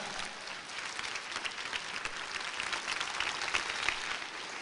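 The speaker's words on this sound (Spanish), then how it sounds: "denle un aplauso al Señor" A church congregation applauding during a Spanish-language sermon about the signs before the end, a steady wash of moderately faint clapping from many hands that holds evenly throughout.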